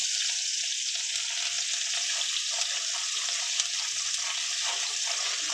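Chopped onion, chilli, cardamom and cinnamon fry in hot oil for a Bengali katla fish kalia, giving a steady, close sizzling hiss throughout with no talking.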